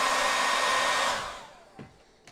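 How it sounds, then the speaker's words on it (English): Hairdryer blowing hot air on an LG G4 phone board, a loud steady roar that cuts off midway and fades, followed by two faint clicks. "even though this is just a hairdryer"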